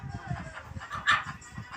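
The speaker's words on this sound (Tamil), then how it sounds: "பாருங்கள், நம்ம கோழி எல்லாமே நல்ல தரமான பாருங்கள்." Peruvidai chickens on a farm cluck and call in short, repeated bursts, with one louder squawk in the middle, close by and heard alone.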